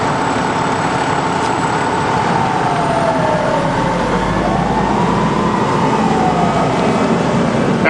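At a staged car crash drill, an ambulance siren sweeps slowly in pitch, moderately loud and steady over a constant rumble of background noise, with no one speaking.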